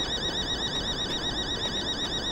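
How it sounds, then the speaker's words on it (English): In the video game The Day Before, a pharmacy alarm sounds with a continuous warbling electronic tone repeating in rapid cycles, steady and fairly loud with no talk over it. "The alarm is going off at the pharmacy."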